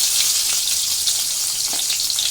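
Small onions and garlic frying in hot oil for a spinach rice dish, a dense, steady crackling sizzle, close and fairly loud, with faint stirring touches and no voices.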